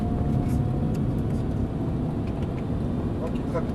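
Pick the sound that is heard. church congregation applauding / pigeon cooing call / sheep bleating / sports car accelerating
sports car accelerating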